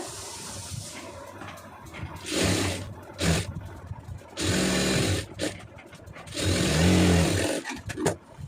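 A sewing machine stitching the seams of a chudidar pant, running in several bursts of a few seconds each with whirring hum and quiet gaps between, close by.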